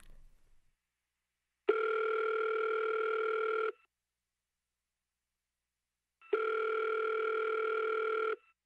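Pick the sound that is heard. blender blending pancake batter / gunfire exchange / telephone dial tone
telephone dial tone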